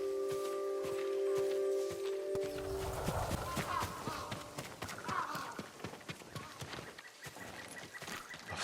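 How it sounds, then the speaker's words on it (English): Hooves of a farm horse clip-clop at a steady walking rhythm in Ghost of Tsushima, close and moderately loud, after a brief low ambient tone, with a faint rustle of surroundings. "I want to look at his horse."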